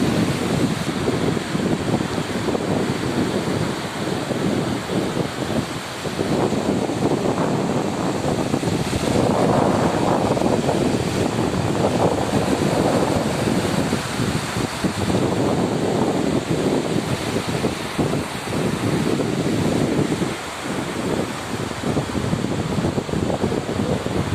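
Waves break steadily on a beach in Kuwait, with a continuous surf wash and wind buffeting the microphone throughout, fairly loud and unbroken, with no voices.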